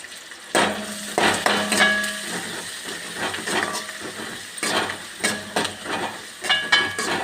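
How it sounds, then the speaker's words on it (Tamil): Onions sautéing in a pan give a soft sizzle broken by repeated scraping and stirring clatters of a utensil against the pan, close and moderately loud, with no talking. "வெங்காயத்தை போட்டு நல்லா வதக்கணும்"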